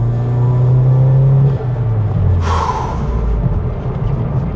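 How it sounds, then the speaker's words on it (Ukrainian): A Volkswagen Golf 7 GTI turbo engine pulls with a loud, steady drone that dips as the revs shift, followed by a brief hissing turbo burst and a lower rumbling continuation. "От газ, турбо зробив ту-ту-ту-ту-ту"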